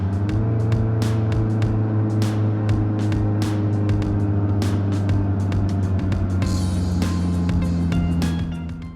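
Car driving west on Diamond Hill Road near I-5 between Salem and Coburg, Oregon: a steady, loud engine and road drone heard from inside, with repeated brief bumps and clicks over the hum, and no talking.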